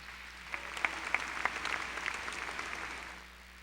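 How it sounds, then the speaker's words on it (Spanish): Church congregation applauding during a worship service, a soft, fairly distant patter of many hands with a few sharper claps standing out, fading toward the end. "Vamos a tributarle un aplauso a Jesucristo."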